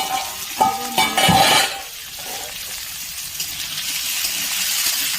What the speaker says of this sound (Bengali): একদম লাল করে ভেজে নেব।